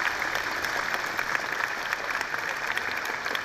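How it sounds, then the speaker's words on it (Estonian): Students clap together at a school anniversary gathering, a steady, dense patter of many hands filling the room at moderate volume with no voices standing out. "Tehke üks suur aplaus iseendale."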